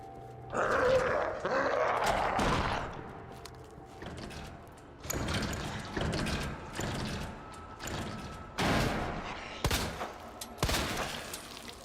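Several sharp gunshots fire in the Resident Evil 2 (2019) remake, spaced irregularly over a low mechanical hum and clanking game ambience, loud and close with no talking.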